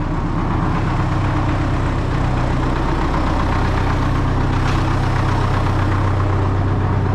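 PALCHE PG 120T branch chipper running steadily at idle, a continuous loud engine drone with a low hum and no voices.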